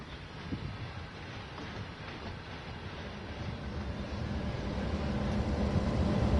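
Locomotives rolling past in the railway simulator game Train Sim World 3: a steady, dense low rumble and rattle of rail traffic that builds slightly louder over several seconds.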